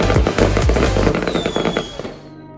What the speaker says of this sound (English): and of course, fireworks.